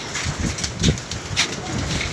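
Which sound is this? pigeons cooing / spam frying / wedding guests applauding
pigeons cooing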